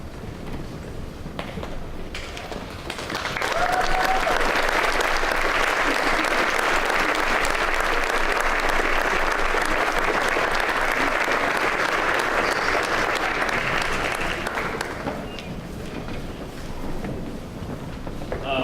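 Parents and students at a 5th grade promotion ceremony break into loud sustained applause that swells after a quieter start, holds steady, then eases off toward the end.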